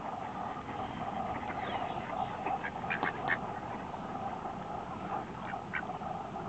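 Ducks quack faintly in short, scattered calls over a steady outdoor background hum, with no one speaking.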